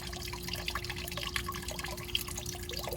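Antifreeze drains from a 2001 Mercedes SLK 320 (R170) in a continuous trickling splash, steady and close, with a faint constant hum underneath and no voices.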